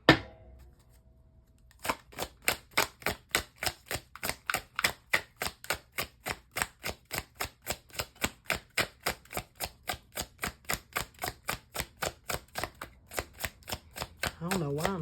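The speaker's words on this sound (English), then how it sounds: "I don't know why I'm shuffling." Tarot cards are shuffled in a long, steady run of crisp riffling slaps at an even rhythm, close and fairly loud, after a brief quiet start, with a voice coming in right at the end.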